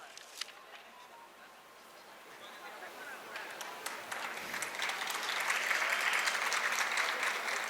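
A crowd at an outdoor statue unveiling ceremony in India applauds an invited guest, clapping that starts faint and steadily swells into strong, sustained applause, with a voice audible beneath it.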